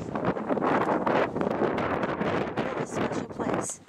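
Strong wind buffets the microphone in continuous rumbling gusts, with some indistinct voices faintly underneath.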